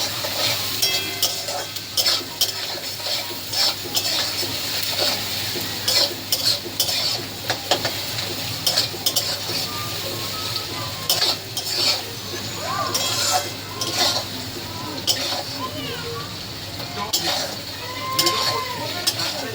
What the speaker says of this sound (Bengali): তো এই পেঁয়াজটা একটু ভাজা ভাজা হবে